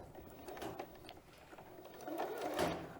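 A sewing machine stitches a fabric face mask, its quiet rapid mechanical whirr running steadily close by with slight swells in loudness and no voices.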